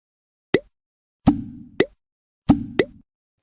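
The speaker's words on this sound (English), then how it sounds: "When the brine is ready, add salmon to the bucket." Four cartoonish plops ring out as salmon pieces drop into a brine bucket in the Molly of Denali kitchen game, close and clean against silence, the middle pair arriving in quick doublets with short watery tails.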